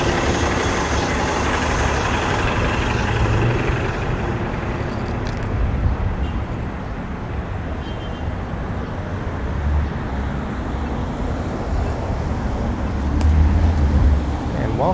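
Road traffic pours along a wide Scarborough stroad in Toronto's Wexford Heights, with white cube vans speeding past. The roar is loud and continuous, with passing vehicles blending into a dense wash that swells toward the end.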